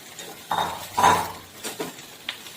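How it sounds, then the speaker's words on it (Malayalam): Chopped onion and green chilli are sautéed in a pan, with a few scraping stirs and light clinks of the spatula against the metal over a faint sizzle. "സവോള അരിഞ്ഞത്, ഒരു സവോള അരിഞ്ഞത്, ഒരു പച്ചമുളക് അതരിഞ്ഞത് വഴറ്റുകയാണ്"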